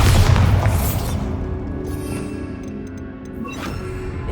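Casting the Bombarda blasting spell in Hogwarts Legacy sets off a single deep, loud boom that crashes at the start, then fades into a lingering low rumble with faint debris rattles.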